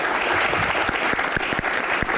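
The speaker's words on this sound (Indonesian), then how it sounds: "tepuk tangan buat bapak-bapak bertiga" A television talk show audience applauds three former KPK officials: brisk, close clapping that stays loud and steady through the short stretch.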